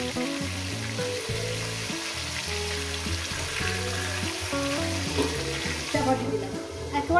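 Tengra fish fry in a pan, a steady sizzling hiss running under prominent background music, with no talking.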